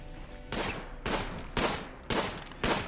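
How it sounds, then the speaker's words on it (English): A colonist in RimWorld fires at a tortoise, a run of five evenly spaced, sharp gunshots, each a loud crack with a brief decaying tail, heard without talk. "Chef deciding to shoot through the entire colony to hit this tortoise."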